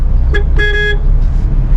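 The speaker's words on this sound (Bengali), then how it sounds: "হর্ন দিচ্ছি কেননা অতিরিক্ত স্লো চালাচ্ছে গাড়িটা" A car horn gives two short honks close by during slow traffic, a brief tap followed by a slightly longer toot, over a steady engine and road hum.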